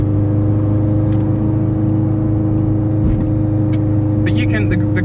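Subaru WRX engine idling low at about 2400 RPM with a smart exhaust valve, a steady loud mid-range drone that stays even throughout with a faint click near the end.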